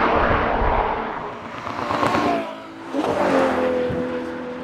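A Ferrari 812 GTS with a naturally aspirated 6.5-litre V12 revs toward 8,900 rpm as it passes, its engine note swelling loud, dipping briefly, then surging again with rising harmonic pitch.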